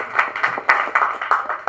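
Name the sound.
audience clapping at a film audio launch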